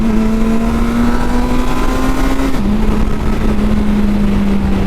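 A 2023 Kawasaki Versys 1000 LT motorcycle engine holds a steady, loud drone, then drops sharply in pitch once midway as the quick shifter clicks through a gear, and pulls on at the new lower note.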